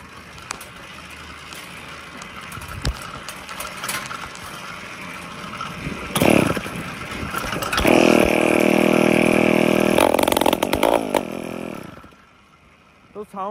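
A small 100cc petrol engine on a homemade motorized bicycle, silencer opened, sputters and revs loudly with an open, raspy exhaust note, rising in bursts before cutting off; a person talks intermittently.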